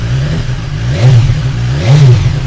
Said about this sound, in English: listen to that. Yeah. Not bad for a standard exhaust.